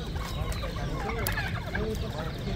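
Loud, close turkey gobbling at a Baghdad market in Kadhimiya, several birds calling over one another in a dense, continuous racket.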